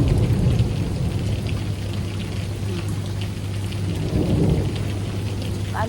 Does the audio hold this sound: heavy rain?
yes